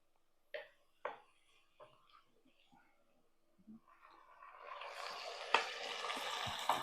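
Chicken pieces dropped into a pan of golden-fried onions for onion chicken gravy: a few soft taps, then a loud, steady sizzle that swells and keeps hissing close by.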